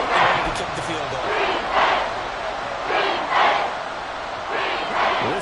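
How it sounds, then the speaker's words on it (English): A stadium crowd in a Madden 24 football game roars loudly, swelling in repeated surges on third and long, while a commentator talks over it. "This crowd turning up the decibel level"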